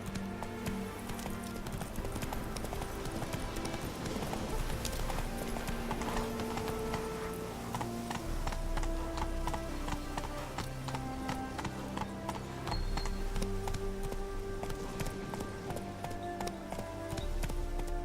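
Horse hooves clip-clop in a steady, continuous gait throughout, ridden in the video game The Witcher 3, with faint background sounds beneath.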